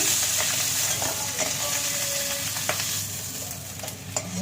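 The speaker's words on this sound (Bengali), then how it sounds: "মাছটাকে এইভাবে ভালো করে ভেজে নিতে হবে মাথাটাকে ভেজে নিলাম" A fish head frying in hot oil gives a loud, steady sizzle and crackle, close by, with occasional stirring clicks and no speech.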